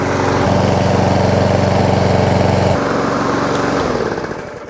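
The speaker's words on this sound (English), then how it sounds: "It's like a brand new engine. It's running great now." A Briggs & Stratton lawn mower engine with fresh oil, a new air filter and a clean spark plug runs loud and close with a steady buzzing drone, then drops in pitch and winds down toward the end.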